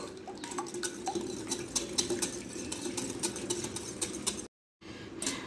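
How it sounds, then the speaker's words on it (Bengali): A hand whisk beats four eggs in a bowl, giving a steady run of quick metallic clicks and taps against the sides. A brief silent gap falls near the end before the whisking resumes. "একটা হ্যান্ড ডিশের সাহায্যে খুব ভালো করে ডিমটাকে ফেটিয়ে নেব।"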